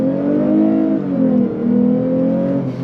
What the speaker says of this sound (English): But why don't we go on throttle from a dead stop?